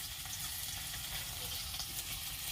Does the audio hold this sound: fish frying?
yes